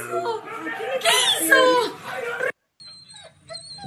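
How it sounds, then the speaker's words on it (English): Dogs yelping and whimpering amid excited children's voices and chatter for about two and a half seconds, then a sudden cut to quieter background. "Look at the dogs."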